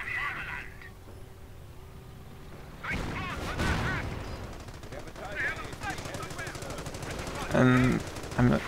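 Machine gun fire in a WWII infantry strategy video game, rattling in rapid bursts mixed with other battle sounds and explosions, with a commentator talking throughout.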